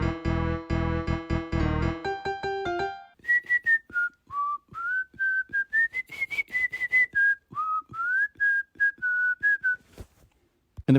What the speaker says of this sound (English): Am I any good at whistling?